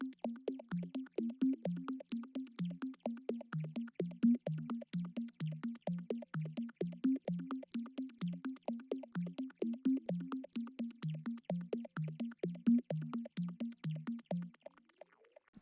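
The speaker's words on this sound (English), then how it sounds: "Finally, I have a pluck that plays an arpeggio of the chords we had at the beginning," A plucked synth arpeggiates the chords of an ambient melody, with short, evenly spaced notes bouncing in a steady rhythm and fading slightly at the end, heard alone.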